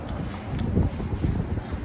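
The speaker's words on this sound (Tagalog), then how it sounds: "Ang lakas ng hangin." Strong wind buffets the microphone outdoors, a rough, low roar with gusty swells and no talk over it.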